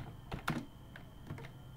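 A few computer keyboard key presses, including the enter key, click out sharply and close up in a quiet room during a photo retouching session, with faint background hum between them.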